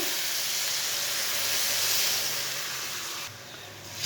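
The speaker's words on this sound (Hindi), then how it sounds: "1 गिलास पानी डाल लेंगे" Water poured into a hot pan of masoor dal (red lentils) cooking for a raw banana curry: a loud, steady steaming hiss and sizzle that fades and softens near the end.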